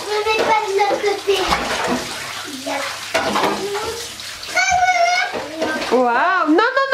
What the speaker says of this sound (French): l'eau dans le bain, Aaron